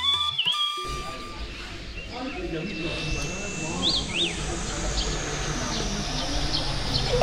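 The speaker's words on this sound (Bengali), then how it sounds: "প্রচুর পাখির ডাক শুনতে পাওয়া যাচ্ছে এখান থেকে।" Birds call along the walking path to Lava Monastery, a few short, high chirps rising over steady outdoor ambience while people talk nearby.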